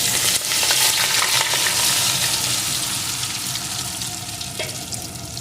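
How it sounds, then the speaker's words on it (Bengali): Marinated soybeans dropped into hot mustard oil in a wok, a loud, roaring sizzle that settles slightly over a few seconds, with occasional stirring scrapes and no talk. "এখন ভালো করে ভেজে নেব"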